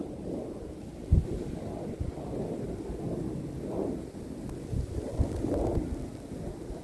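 Strong winter snowstorm wind during a heavy Montreal storm, roaring as a steady low rumble with gusty swells and a few thumps, loud and continuous with no talk.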